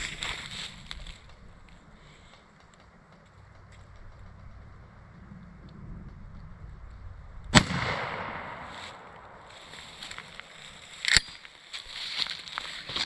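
A shotgun fires a Federal TSS turkey load at a target 40 yards away: one sharp, loud outdoor blast cracks out mid-clip, then a fainter crack follows over steady background noise.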